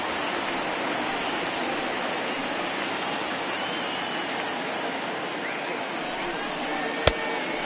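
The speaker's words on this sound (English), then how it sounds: "This isn't an easy sport to play in the rain." Heavy rain pours steadily over a baseball field during a 1975 amateur game in Oklahoma, a dense unbroken hiss that fills the whole stretch, with one sharp knock near the end.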